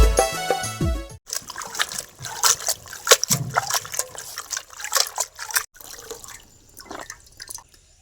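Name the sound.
washing leafy greens (saag) in a bucket of water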